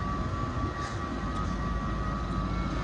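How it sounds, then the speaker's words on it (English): A Class 755 train at Norwich station gives off a steady, loud engine drone and rumble that continues unbroken, with a faint high whine on top. "there's a new train"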